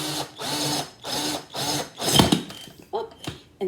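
A drill bores through a pot in short repeated bursts of whirring, close and fairly loud, while a person talks between the bursts.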